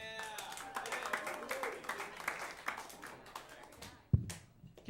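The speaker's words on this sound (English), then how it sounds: "keep those claps together" A comedy club audience claps for the show's host in dense, steady applause that gradually thins out, with a sharp knock near the end.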